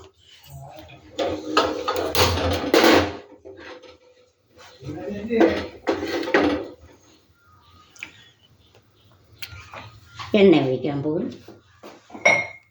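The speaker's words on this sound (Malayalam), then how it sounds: "ഇനി അടുത്തതായിട്ട് നമ്മൾ ചട്ടി അടപ്പത്ത് വയ്ക്കുന്നു." A clay cooking pot set onto a stove in a home kitchen for prawn curry, with several close clunks and scrapes of cookware in separate bursts, while a person talks.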